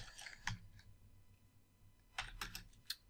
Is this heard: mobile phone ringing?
no